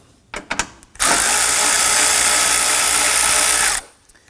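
A power driver with a socket spins out an 8mm bolt from the air intake of a Volvo XC90 engine bay. A few light clicks come first, then a loud, close, steady whir for about three seconds before it stops.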